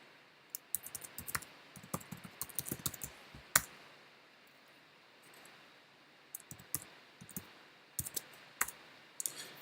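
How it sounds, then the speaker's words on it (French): Clicky computer keyboard keys tapped in short quick bursts while a keyword goes in, ending with a firmer Enter press, close and fairly quiet with pauses between runs. "je tape le mot-clé et je valide avec la touche entrée"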